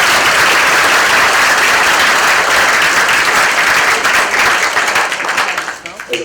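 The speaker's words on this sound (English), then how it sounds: "big round of applause for Dr. Henderson as well." A large audience at a medical course claps loudly and continuously, a dense sustained wall of applause that holds steady before tapering off in the final second.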